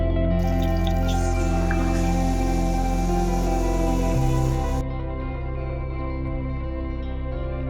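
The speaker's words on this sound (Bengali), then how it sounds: "মশলা ধোয়া জলটা বাটিতে ওটা ঢেলে দিলাম" Spice-soaking water poured from a bowl into a cooking pan while preparing a Bengali shukto, giving a steady close liquid pour and drip with sizzling, running continuously and then easing off near the end.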